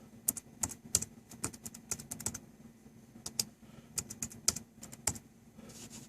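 Crisp, close keystrokes on a computer keyboard come in quick bursts and short pauses as track names are typed into a digital mixing session, with no voice present.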